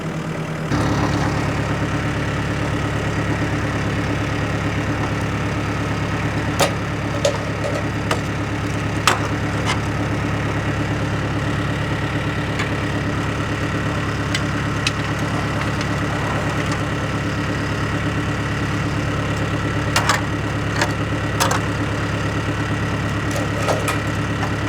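A tractor engine idles steadily with a constant low rumble at a carport building site, holding an even level for about twenty-five seconds with a few faint clicks and knocks over it and no talk.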